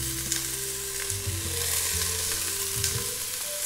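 Celery and carrot sizzle steadily in hot oil in a pot at the start of a clear fish broth, a continuous close hiss with low crackle and no voices.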